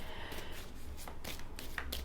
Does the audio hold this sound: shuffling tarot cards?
yes